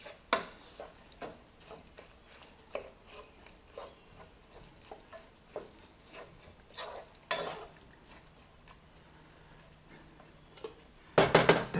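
A spoon stirs squash soup in a pot with soft, irregular scrapes and light clinks against the metal, close and quiet, ending in a short cluster of louder knocks; no one talks.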